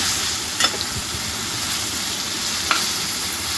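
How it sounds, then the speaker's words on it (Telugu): Ingredients for a ridge gourd peel chutney fry in a pan on a low flame, a steady hissing sizzle with two brief stirring scrapes, close and even in level, with no voices. "ఫ్రై చేసుకోవాలి సిమ్లో పెట్టుకొని ఇవి ఎంతవరకు ఫ్రై అవ్వాలంటే కొంచెం పచ్చివాసన పోయేంత వరకు ఫ్రై చేసుకోవాలి"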